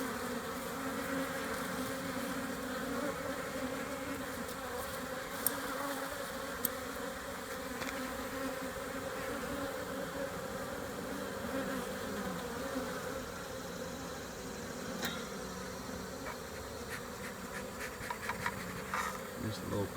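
A steady, dense buzz of many honeybees swarming close by around an open hive, continuous throughout with a few faint clicks and knocks.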